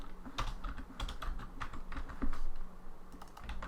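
Fast typing on a computer keyboard while writing Unity C# enemy AI script code, a close, crisp run of irregular key clicks alone with no voices.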